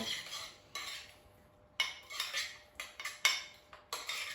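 A utensil clinks and scrapes against a bowl while garlic sauce with lemon juice and a pinch of salt is mixed, in several short separate bursts of stirring with quiet gaps between them.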